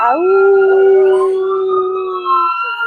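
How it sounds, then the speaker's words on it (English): A pet dog howls close by in a single long, steady, wavering howl that holds for nearly three seconds before trailing off, with no talking over it. "I'm thinking about my dog"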